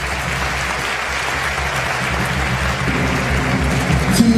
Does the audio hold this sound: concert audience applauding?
yes